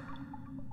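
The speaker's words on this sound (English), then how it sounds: "And there's water dripping in here." Water drips inside a rocky cartoon cave, a few separate plinks rising over a steady low hum, close and fairly quiet.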